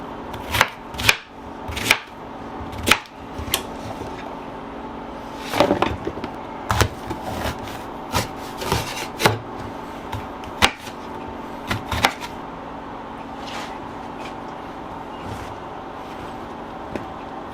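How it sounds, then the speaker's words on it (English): Knife chopping zucchini, squash and Chinese eggplant on a cutting board, a run of sharp, irregular thwacks close by, some in quick bursts and others spaced out, with no talking. "Here we're cutting them up a little bit."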